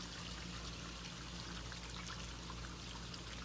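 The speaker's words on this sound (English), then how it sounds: "the kid just flushed the two toilets and the sinks are running, as you can hear" Rushing water from two toilets flushing and sinks running, heard through cracked cast iron sewer pipes in a house: a continuous, fairly loud pouring and trickling wash with no talk.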